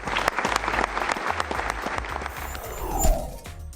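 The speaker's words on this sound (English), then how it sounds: "So let's give yourselves a round of applause." A NASA gathering claps for itself in a short burst of applause with individual claps audible, swelling slightly before fading out.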